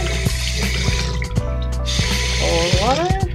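Hot water running from a kitchen sink faucet after a new drain, stopper and P-trap were installed, a steady close rush with a few drips and clinks, and a brief voice or snort near the end.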